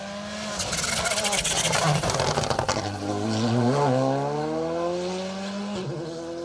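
A Volkswagen Polo rally car on an asphalt stage rushes past nearby, with a loud engine roar and gear changes rising then sweeping away as the pitch climbs, under a low announcer voice.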